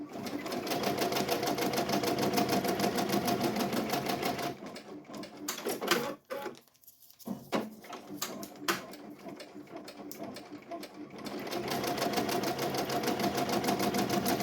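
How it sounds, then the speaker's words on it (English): An embroidery machine stitches a 3D puff design with a fast, steady mechanical chatter, loud and close, pausing midway for several seconds of scattered clicks and handling before the continuous stitching resumes. "I was supposed to lower the speed of the embroidery machine"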